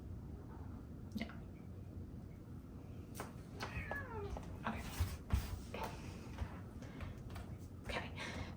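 A pet cat meows a few times in a quiet room, one meow sweeping upward, alongside soft wet licking or dripping noises and a voice speaking to it.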